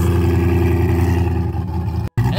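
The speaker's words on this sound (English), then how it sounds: "So it does need to warm up to chop, but check out that titanium exhaust." A cammed C8 Corvette with a titanium exhaust runs loud and close, its deep, choppy idle rumbling steadily before a brief cut near the end.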